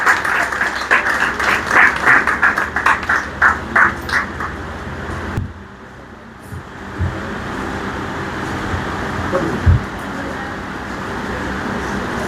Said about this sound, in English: Can we have a round of applause after each?